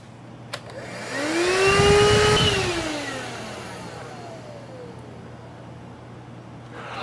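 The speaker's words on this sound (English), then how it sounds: "to test the cigarette lighter ports, I always use this DC vacuum right here" A small handheld DC vacuum powered from a portable power station's cigarette lighter port spins up with a rising whine, peaks loudly, then winds down into a fading whir, close by.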